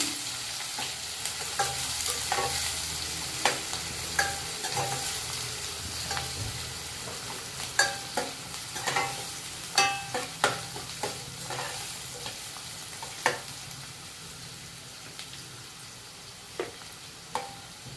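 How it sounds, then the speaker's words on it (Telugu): Chopped onions fry in oil in a pan, a continuous sizzle broken by regular scraping knocks as a spoon stirs them, close and moderately loud. "ముందుగా తరిగిన ఉల్లిపాయలు వేస్తాను కొంచెం కలర్ వచ్చేదాకా వేసుకోవాలి"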